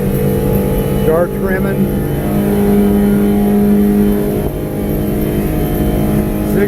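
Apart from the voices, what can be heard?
Smokercraft 172 Osprey boat engine accelerating at full throttle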